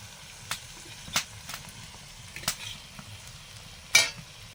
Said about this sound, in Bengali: কিছুটা মশলা ভাজার পরে সেদ্ধ মাছটা দিয়ে দিচ্ছি, কাঁটা ছাড়ানো